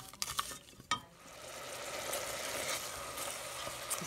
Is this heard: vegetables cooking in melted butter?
yes